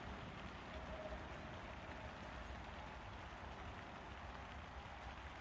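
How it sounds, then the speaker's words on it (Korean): Heavy rain pours down steadily around a small pond during a fishing session, a dense, even hiss of drops hitting the surface that stays constant and close throughout, with no voices. "아 비가 쏟아집니다 우중낚시입니다 우중낚시"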